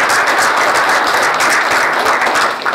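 A conference audience at a games industry event in Bangalore applauds after a talk on indie game design, a loud, continuous wash of many hands clapping that holds steady before easing slightly at the very end.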